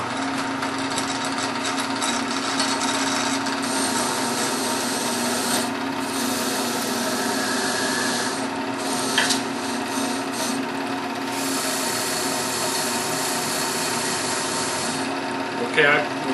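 Wire wheels on a homemade wire wheel table spin against wood under firm pressure, a loud continuous close-up grinding rasp with a steady motor whine that holds for the whole stretch with small surges.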